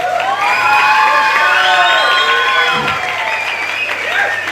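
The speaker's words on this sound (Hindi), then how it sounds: "आपको जहां जहां लगता है बजा दीजिए, जहां जहां लगता है ताली बजा दीजिए, क्योंकि बात हो रही है यीशु की" An audience at a Hindi-language religious talk claps and cheers loudly and continuously, with scattered shouts and whoops rising over the applause throughout.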